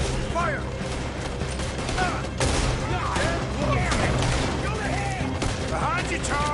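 Gunfire in a PS4 video game battle rattles continuously, dense and loud, with shouted voices and game music mixed over the shooting.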